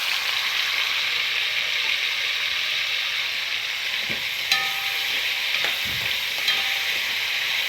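Tomatoes frying in a pan for pinakbet, a steady loud hiss and sizzle throughout, with a few faint clicks and scrapes of a utensil against the pan, no talking.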